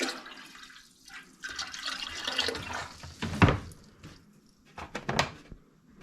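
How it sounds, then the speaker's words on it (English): Vinegar, about half a cup, poured into a pot of water for boiling blue crabs, a splashing liquid pour rising and falling in short bursts, close by. "we want to put in about half a cup of vinegar"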